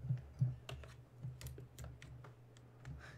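Computer keyboard being typed on during a PlayerUnknown's Battlegrounds session, a quiet run of soft, irregular key clicks over a low steady hum.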